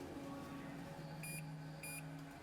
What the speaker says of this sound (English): you hear this like incessant beeping coming off of your KIA unit, which is just over and over